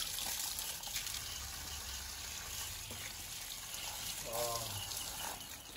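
Taro plants with their white roots are rinsed under a running tap, giving a steady broadband wash of water with a brief gurgling splash near the end, moderately close and fairly quiet.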